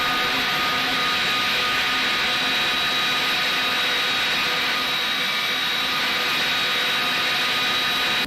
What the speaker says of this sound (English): These are the Pratt & Whitney engines.